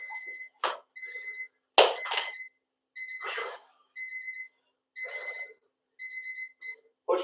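Workout interval timer beeps sound in short repeated bursts of paired tones with brief gaps between them, clear and close, interrupted by a few thuds and breaths.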